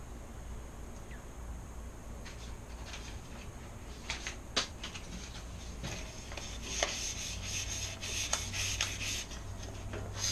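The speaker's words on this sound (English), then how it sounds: "I have some 1000 grit sandpaper. I'm going to run that over it real quick." Fine 1000-grit sandpaper rubbed by hand over buildup on a Ridgid tool's wheel area during a urethane tire upgrade, a steady soft scratchy rasp with brief sharper strokes, fairly close and with no talking.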